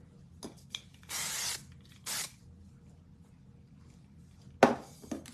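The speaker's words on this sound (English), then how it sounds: "Okay, so spraying." Hair spray hisses from a can during a curling routine: two short bursts lasting about half a second each, close and fairly quiet, between soft rustling and handling clicks, with no speech.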